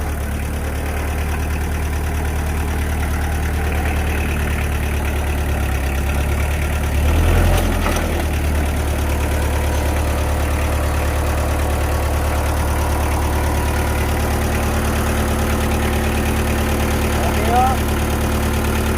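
A low, steady tractor engine idles throughout with a constant rumble, a brief louder clunk partway through, and faint voices in the background, at a greenhouse where pelleted manure is spread.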